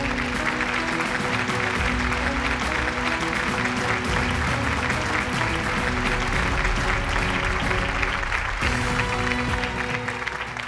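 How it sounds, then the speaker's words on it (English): Sustained crowd applause fills the whole stretch, dense and steady clapping with a slight dip near the end before continuing. "Can we have a louder round of applause?"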